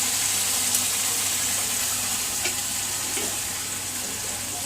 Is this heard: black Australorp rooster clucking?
no